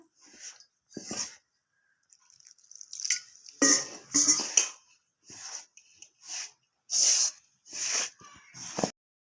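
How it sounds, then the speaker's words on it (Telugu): Soaked moong and chana dal mixed with water by hand into a thick dough, giving a series of close, wet squelching and slapping bursts with short pauses between them and no talk. "నీళ్ళు కొంచెం వేసుకొని కలుపుకుందాం."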